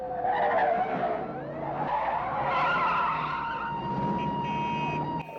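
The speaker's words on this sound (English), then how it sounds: "people tuned in weekly to get their dose of car chases" Tires squeal and skid loudly during a Starsky & Hutch TV car chase involving a Gran Torino, with wailing screeches rising and sliding in pitch over about five seconds and engine roar beneath, close and continuous.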